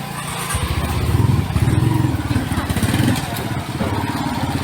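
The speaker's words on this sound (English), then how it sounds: "Just goes tuk-tuk." A tuk-tuk motors past on a busy Bangkok street, its small engine giving a steady, close putter that swells and recedes over a few seconds amid traffic noise and some nearby voices.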